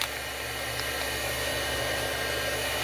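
Heat tool preheating before melting embossing powder for card making, a steady, loud broadband whoosh like a hair dryer with a constant motor hum, running alone throughout.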